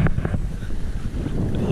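Wind gusts across an open campsite with a few tents, a steady low rushing roar buffeting the microphone continuously throughout.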